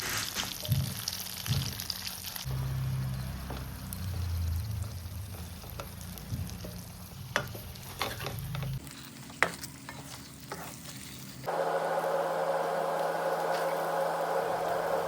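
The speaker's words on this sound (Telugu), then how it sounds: "ఆయిల్ బాగా హీట్ ఎక్కాక స్టఫ్ వేసిన మిర్చీలను వేసి నెమ్మదిగా తిప్పుకుంటూ బాగా వాడిపోయే వరకు వేయించాలి" Stuffed bajji chillies frying in hot oil and being slowly turned, a continuous close sizzle with repeated scraping and clinking of a spoon against the pan, the sizzle changing in tone partway through, with no talk.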